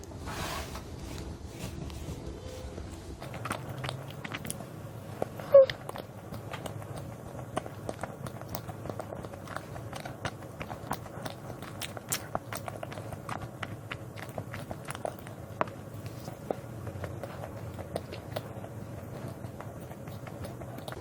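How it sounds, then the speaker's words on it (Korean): Someone eats honey rice cake up close, producing repeated soft sticky chewing and mouth clicks over a quiet background with sparse, irregular sharp smacks. "일단 이거 꿀어떡 먼저 먹고 있을게요"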